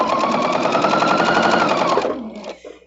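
A sewing machine runs at speed stitching quilt blocks on the diagonal, a loud, close, rapid mechanical chatter that holds steady for about two seconds, then winds down and stops.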